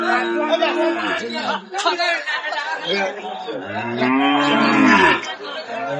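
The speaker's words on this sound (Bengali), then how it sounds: "হাটে গরু আছে" Friesian cows and calves at the Amabari cattle market low repeatedly in drawn-out moos, close and loud, over steady crowd chatter and people talking nearby.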